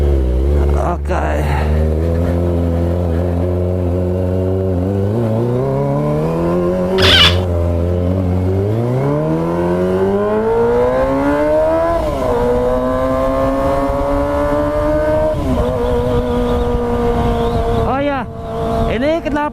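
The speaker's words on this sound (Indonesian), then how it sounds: "Knalpotnya ini lumayan gacor ya" A Kawasaki ZX25R motorcycle engine drones and climbs through the gears, exhaust pitch rising and dropping with each shift, loud and close throughout.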